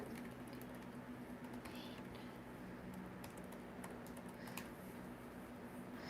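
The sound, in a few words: typing on a computer keyboard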